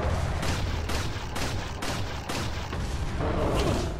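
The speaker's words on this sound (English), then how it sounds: "I'm hoping to get a few more shots in on his face" Gunfire in the video game Resident Evil 4, a run of several booming shots at a regular pulse, heavy and close, layered over dense low rumbling game noise.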